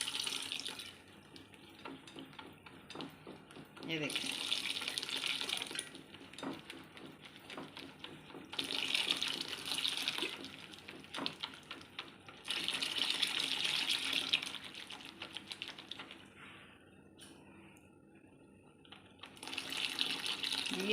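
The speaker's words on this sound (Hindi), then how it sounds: "अब मैं इसमें डालूँगी पानी।" Water pours into a cooking pot for kari (pakora curry) in several bursts of a few seconds each, a splashing hiss starting and stopping, with a brief spoken remark between pours.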